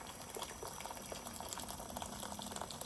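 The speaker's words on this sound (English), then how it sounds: "we're gonna add in some boiling water" Faint bubbling, gurgling boiling water pours steadily into a pot, a soft continuous splashing with small bubbly pops.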